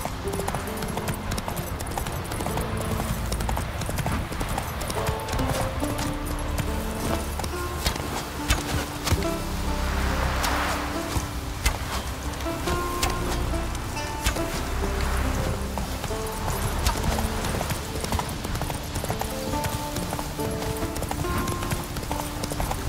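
A horse gallops in The Witcher 3 video game, steady rhythmic hoofbeats pounding close and loud throughout, with faint background ambience underneath.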